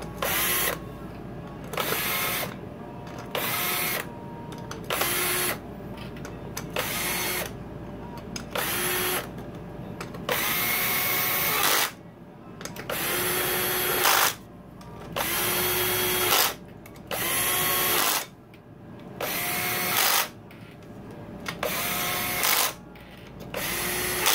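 A cordless drill runs down clutch cover bolts on a Kawasaki KX motorcycle in repeated short whirring bursts, each ending with a brief pause, loud and close with no talk.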